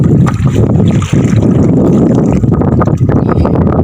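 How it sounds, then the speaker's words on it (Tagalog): Loud, constant wind roar from a strong amihan wind buffeting the microphone, with water sloshing around a small boat on big waves underneath; steady and close throughout. "Malakas yung hangin amihan yata to mga kabidang eh"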